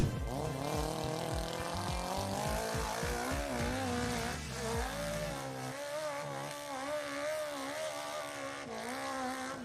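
A powerful vehicle engine roars continuously as it climbs a near-vertical hill, its pitch rising and shifting with revving strain, loud and close throughout with no talking.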